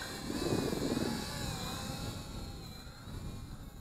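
A KFPLAN KF609 toy drone flies outdoors in wind, its propellers giving a steady, thin whirring buzz at moderate distance that holds evenly throughout with no talking.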